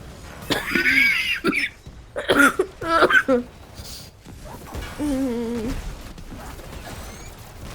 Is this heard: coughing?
yes